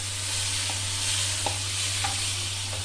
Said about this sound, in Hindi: मैरिनेट किया हुआ गोश्त ऐड कर देंगे।